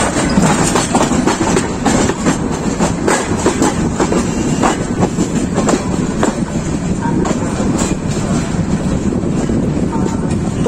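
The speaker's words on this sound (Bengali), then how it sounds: "আমাদের ট্রেন প্রবেশ করবে।" Mahanagar Provati Express train arriving at a busy Dhaka station platform, a loud continuous rumble of wheels and carriages with steady clattering and rushing noise throughout.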